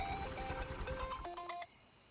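An electronic phone ringtone plays a bright repeating melody of tonal beeps, fairly loud and close, cutting off abruptly near the end.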